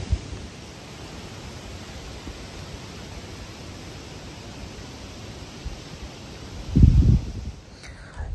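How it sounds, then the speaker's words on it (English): Continuous wind rushing past, a broad steady hiss with a heavier low buffeting gust near the end. "I didn't think it was gonna be this windy either"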